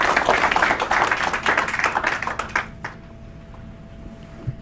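An audience in a lecture hall claps together in a dense burst of applause lasting a couple of seconds, then it thins to scattered claps and dies away into near silence.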